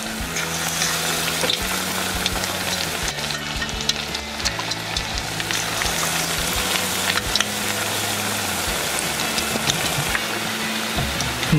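Battered fish frying in hot oil for fish tacos, a loud, steady crackling sizzle that runs throughout with dense popping and no voices.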